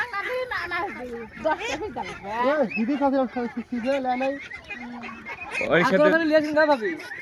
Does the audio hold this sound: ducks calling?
yes